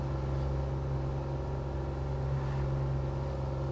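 A Kubota RTV-X2 utility vehicle rolls along on AP Terrain tires, its engine giving a steady low hum and rumble that holds level and smooth throughout, with no voices.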